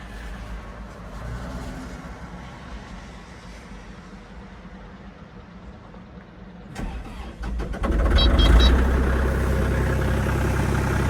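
A cold Kubota KX-040 excavator diesel engine on a frosty morning idles steadily with a low rumble, then cranks and catches at about seven seconds, settling into a louder, fuller idle.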